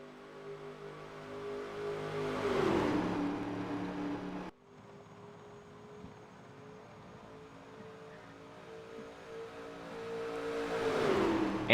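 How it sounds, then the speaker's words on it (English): Race cars in the NASCAR Racing 2003 video game at a Daytona duel green flag, engines roaring as a pack sweeps past, fading, then another rising pass near the end. "Kellen Relic leads them to the green flag"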